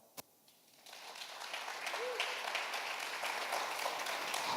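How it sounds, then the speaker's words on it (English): Applause from an audience at a startup pitch competition, beginning faintly after a single sharp tap, then building into steady, distant-sounding clapping that holds to the end. "So a round of applause."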